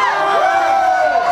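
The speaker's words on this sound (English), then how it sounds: "As you hear them hollering, you listen to the fans right here at the Sawmill Arena" Wrestling fans hollering at the Sawmill Arena during a Southern All Star Wrestling match, a loud, close roar of yelling and whooping voices with rising and falling cries, continuous for the whole moment.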